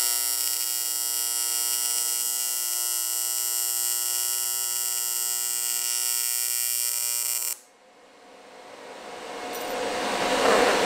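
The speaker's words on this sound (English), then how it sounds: "I have to grind out." Grinding a bung hole into a Mustang's exhaust pipe on a turbo LS swap gives a loud, steady high-pitched whine for about seven seconds, then cuts off abruptly to a quiet tail.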